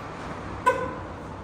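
One short horn beep from a 2012 Mercedes C180 sounds once, fairly faint against a quiet background hiss.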